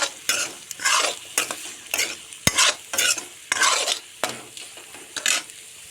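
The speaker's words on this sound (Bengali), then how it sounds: "তারপর দেব স্বাদ মতো নুন, দিয়ে নাড়তে থাকবো।" Egg and potato curry is stirred in a pan with a spoon scraping and clattering in quick, uneven bursts, each stroke sharp and close over a faint sizzle, with no talking.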